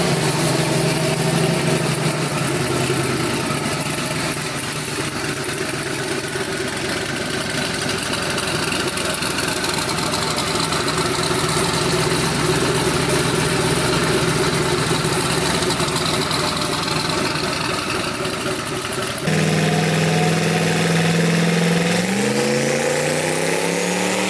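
Twin-turbo 5.3 V8 in a Mustang running on a dyno at about 3 pounds of boost, a steady, loud, sustained engine drone that drops and settles toward idle near the end.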